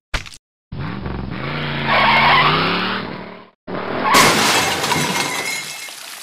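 A truck pulls up with a loud, sharp tire-screeching skid. After a brief silent cut comes another bright, harsh burst like a crash, all close and loud with no talking.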